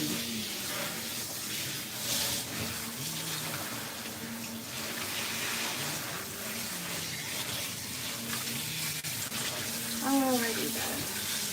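Running water from a tap or sprayer rinses a Persian cat during grooming, a steady close hiss throughout while a person talks briefly over it.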